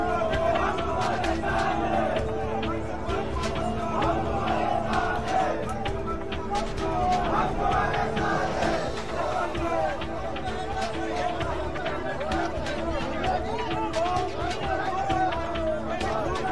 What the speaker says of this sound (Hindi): वहां पर जो है प्रदर्शनकारियों की भीड़ लगातार जमा होती नजर आई